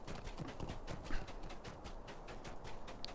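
Horse hooves clip-clopping in the online fantasy game Lord of the Rings Online, a steady rhythmic trot of footfalls over continuous busy game ambience, moderately loud, with no speech.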